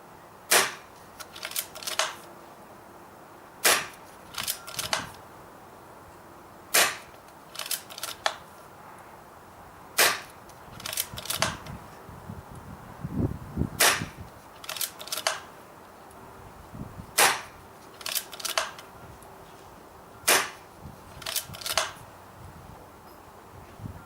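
Sharp, crisp shots from an Artemis M16A air rifle firing RWS Super Field 15.9 grain pellets outdoors in the field, about a dozen close, snappy cracks at irregular intervals, some in quick pairs, with a faint thud between.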